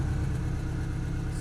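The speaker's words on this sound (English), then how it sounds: "You can hear straight away the exhaust perk up." A 2018 Porsche Cayman 718 GTS with PDK idles steadily, its engine and exhaust giving a close, even low rumble with no voices.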